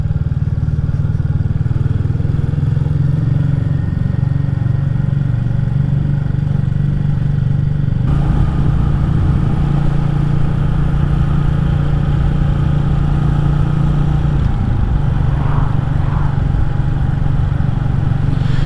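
A Royal Enfield Classic 350 motorcycle rides along quiet country roads in rural Wales, its engine thumping steadily and loudly throughout with rumbling low tones, wind noise and slight shifts in pitch as the speed changes.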